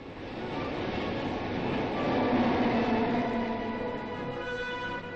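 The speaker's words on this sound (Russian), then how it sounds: "Открыли движение подземных поездов в Новосибирске." A Novosibirsk metro subway train, recorded in 1986, rumbles steadily through the underground, swelling slightly louder midway and then easing off, with no voices over it.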